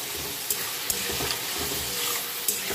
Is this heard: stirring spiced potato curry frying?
yes